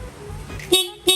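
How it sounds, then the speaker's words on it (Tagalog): Two short motorcycle stock horn beeps, nasal and close, sounding after a low idling rumble, with a brief pause between them. "Dapat yung busina natin, kahit nakapatay po yung makina, once na naka-on to, tutunog po dapat na maayos"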